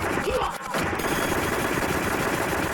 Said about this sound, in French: il est possible d'activer une simulation du bruit que faisait la mitrailleuse de la borne lorsqu'on appuyait sur la gâchette